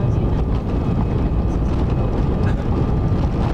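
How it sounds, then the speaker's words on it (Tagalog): An airplane flying near Boracay gives a loud, steady broadband roar with a windy rumble that runs continuously and without a break. "Lupad ng eroplano."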